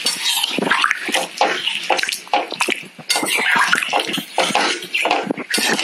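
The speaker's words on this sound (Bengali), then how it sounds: "আমি প্রায় সম্পূর্ণ ছানার জলটাই অ্যাড করে দিলাম।" Chhana whey water poured steadily into a cooking pan on a high flame, a continuous splashing, sizzling rush close by with brief dips and surges.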